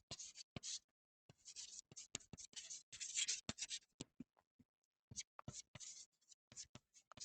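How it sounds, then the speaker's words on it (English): Chalk or marker writing on a board during a mathematics lecture on the Riemann zeta function, heard alone as bursts of rapid scratchy strokes with short pauses between them. "Okay, let's write it down."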